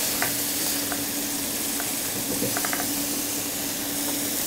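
Meat sears in a cast iron pot, a steady loud sizzle and hiss of frying with a few faint clinks of a utensil stirring, heard up close without talk.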